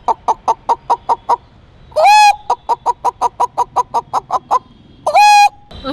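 A person's voice imitates a hen, a rapid run of short, evenly spaced clucks close up, broken twice by a longer loud squawk, then more clucking.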